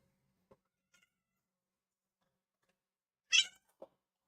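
A cat gives a single short, clear meow close by in an otherwise quiet room, preceded by a few faint soft ticks and followed by a brief low sound.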